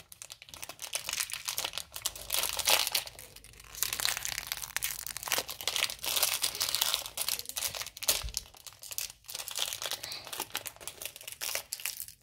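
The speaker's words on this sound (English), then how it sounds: "The packaging are so hard to open." Plastic packaging on an LOL Surprise Lil Sisters toy crinkles and tears continuously at close range, with bursts of crunching and rustling and short pauses.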